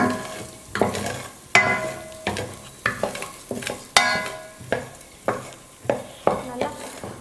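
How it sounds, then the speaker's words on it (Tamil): Dry moong dal being roasted in a pan on medium flame and stirred, giving a steady series of sharp scraping and rattling strokes about once a second, close and fairly loud with no talk. "ஸ்டவ்வை மீடியம் ஃப்ளேமில் வச்சுக்கிட்டு குறைஞ்சது மூணு நிமிஷத்துக்கு நல்லா பருப்பை வறுத்துக்கணும்"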